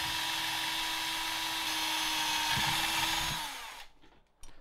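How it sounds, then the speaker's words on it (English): A power drill bores a hole through a PC faceplate for USB ports, a steady high whine running loud and close for almost four seconds before the motor winds down and stops. "Let's drill out the other hole."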